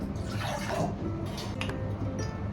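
A little water poured while making coffee at home, a short close splashing pour followed by a few light trickles and drips.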